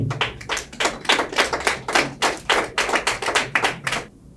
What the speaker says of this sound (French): je vous invite à applaudir très très fort